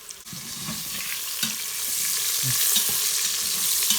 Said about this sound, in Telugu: ఆనియన్స్ ఇలా రెడ్గా ఫ్రై చేసుకోండి.